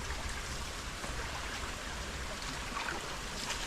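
Continuous rushing of irrigation water flowing into a rice paddy, broad and steady, close by with no breaks and no voices.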